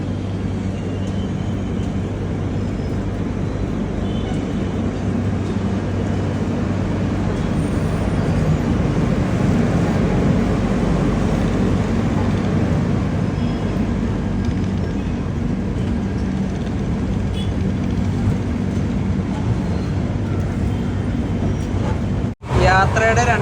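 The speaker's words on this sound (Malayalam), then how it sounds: "കാട്ട്പാടിയിൽ നിന്ന് ഇതാ ട്രെയിൻ എടുത്തിരിക്കുകയാണ്" Vivek Express train pulling out of Katpadi, a steady loud rumble of wheels and carriage noise from on board, continuous throughout with a brief dropout near the end; some voices may mix faintly into the din.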